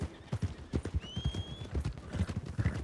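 Horse hooves clip-clop in a steady, fairly close rhythm in the RedM game world, with a brief high whistle-like tone partway through and no talking.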